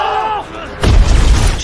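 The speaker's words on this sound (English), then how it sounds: "Román still managed to throw a grenade at Guerrero." A grenade goes off in an action movie's cartel-versus-special-forces fight. A sudden loud blast breaks in after a short stretch of voice-like tones and is followed by a heavy, rumbling roar with crackling debris.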